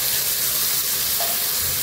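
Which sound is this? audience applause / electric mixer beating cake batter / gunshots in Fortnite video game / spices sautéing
spices sautéing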